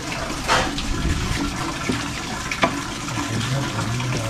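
Water pours in a continuous rushing stream into a pot of country chicken curry being cooked, a close, steady splashing with a couple of brief knocks partway through.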